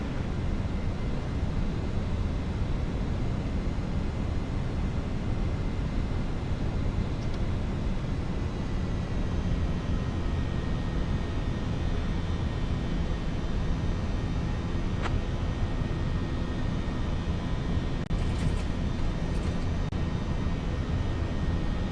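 An Airbus A321-200 jet rolling for takeoff in a flight simulator, a steady, loud, unbroken engine roar lasting over twenty seconds with no voices.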